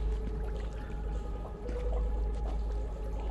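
Water in the Assassin's Creed Brotherhood video game pours and rushes in a steady, fairly loud stream that runs the whole way through, with no talking.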